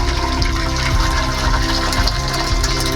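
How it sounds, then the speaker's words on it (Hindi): Hot water from boiled macaroni pours through a kitchen strainer in a steady, loud, splashing gush that runs unbroken for several seconds. "अब हम इसे स्ट्रेनर में डालकर स्ट्रेन कर लेंगे। इसका पानी सारा रिमूव कर देंगे।"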